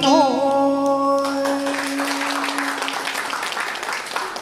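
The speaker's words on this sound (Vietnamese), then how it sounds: "cảm ơn những tràng pháo tay khích lệ của tất cả quý vị rất nhiều ạ" Audience applause breaks out at a live Vietnamese cải lương folk-opera charity performance, starting under a fading sung note and swelling into dense, steady clapping that fills the hall.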